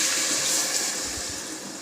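Water is poured into soaked rice in a cooking pot for biryani, a short, steady splashing trickle close by, with no voices.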